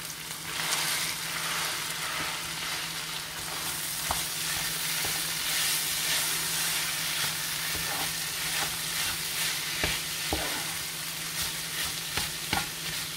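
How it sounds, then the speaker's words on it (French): Beef and rice are stirred in a hot pan, giving a continuous sizzle and frying hiss with repeated scraping strokes of the spoon, close and steady throughout. "Donc on ajoute le riz et on mélange."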